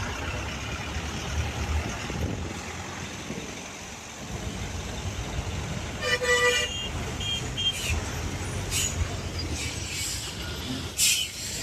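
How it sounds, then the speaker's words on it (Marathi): Road traffic backed up on a bridge in Vapi, with a steady rumble of idling and crawling vehicles and several short car horn toots breaking through now and then, fairly close. "मी वापीला इथे ब्रिजवरती आलोय आणि बघा ट्रॅफिक लागले"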